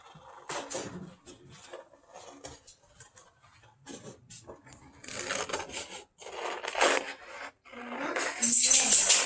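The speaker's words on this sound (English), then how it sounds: "I'll use scissors and I will just cut that out." Scissors snip out a stocking shape from scrapbook paper in scattered, close crisp cuts with light paper rustling between them, the snips growing denser toward the end, with no talking.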